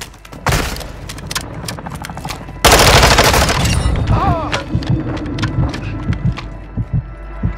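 Gunfire in the shooter Call of Duty Warzone on Ashika Island: sharp bursts of shots go off close by, then a heavy barrage and a loud blast, with scattered shots and game chatter continuing afterward.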